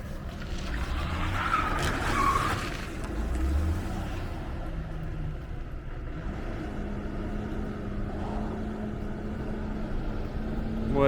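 A 1971 Chevy El Camino A-Body streetcar with patina roars through a burnout, its tires squealing loudly over a heavy engine drone, then settling into a steady rumble.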